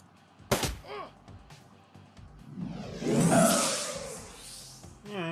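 Gunfire from the Shadowrun Returns video game: a sharp shot near the start, then a louder burst of crackling and whooshing shots in the middle, with fainter game sounds around it.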